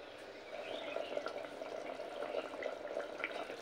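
Vegetable curry with bori lentil dumplings simmering in a covered pot, giving a soft, steady bubbling hiss that runs quietly throughout with no one talking.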